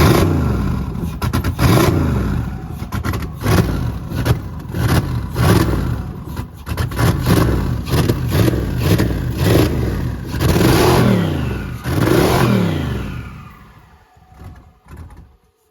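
A turbocharged LS-swapped K20 car engine revs repeatedly, loud and close, with a series of rising and falling surges bouncing off the rev limiter before the sound cuts off and fades near the end.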